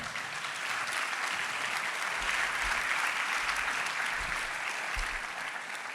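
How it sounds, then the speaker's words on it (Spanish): Sustained applause from a large church congregation, steady and dense throughout, a bright wash of clapping that neither builds nor fades. "Dele un aplauso al Señor."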